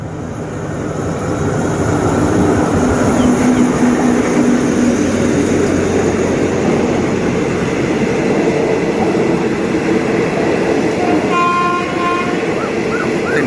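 A freight train, express goods train 985, roars past close by at Pak Tho station for the whole stretch, heavy rumble throughout, with a horn sounding near the end.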